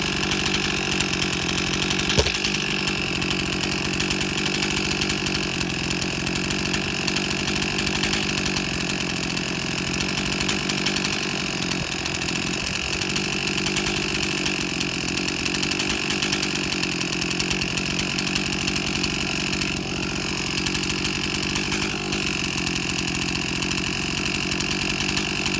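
A rebuilt Stihl 044 Magnum chainsaw cuts through wood at full throttle, a loud, steady, close engine roar that holds for the whole stretch without a break.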